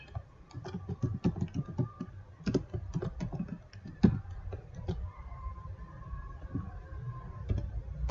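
Someone types HTML code on a computer keyboard in quick irregular bursts of clicks throughout, alone and at close range, with a faint low hum underneath.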